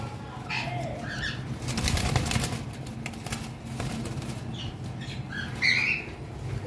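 White-faced pied cockatiels in a breeding aviary flap their wings steadily, close by, with a few sharp squawks and chirps breaking through near the start and again toward the end, and nobody talking.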